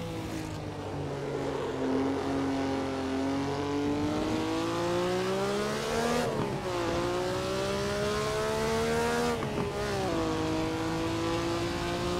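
A Maserati 250F race car engine at Imola in the Assetto Corsa racing game drones steadily and loudly, its pitch rising and falling through gear changes, with two sharp dips where the driver lifts and shifts.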